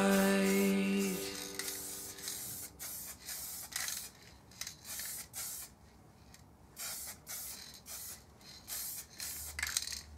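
Spray gun laying a wet coat onto a Triumph Bonneville motorcycle part, a series of short, close hissing bursts with brief pauses between them, after a moment of background music at the start.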